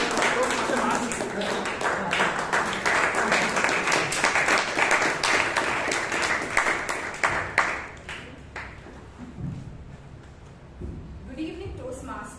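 A Toastmasters meeting audience in Bangalore breaks into dense, sustained clapping for about eight seconds, loud and close. The applause then fades as a single speaker begins talking.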